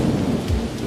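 Heavy rain pours down with a low rumble of thunder in a cartoon story about a magic umbrella, a steady dense wash of falling water filling the whole second.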